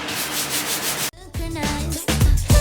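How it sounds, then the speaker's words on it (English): A stiff-bristled toilet brush rubs and scrubs against a surface in steady, close strokes, with a brief pause before the scraping resumes louder in bursts. "a toilet brush from the Dollar Tree because it has some nice, you know, stiff bristles, and it helps me scrub up some of this poo"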